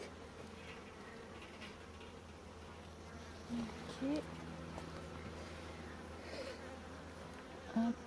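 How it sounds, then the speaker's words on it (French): Honeybees buzz steadily around an open hive at an apiary, a faint, continuous drone with a few closer passes, and a person says a brief word. "Ah, toujours une abeille qui vient sur l'objectif."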